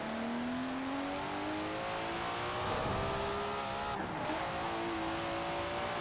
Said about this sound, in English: The turbos, the blow-off valve. Oh, they sound so good.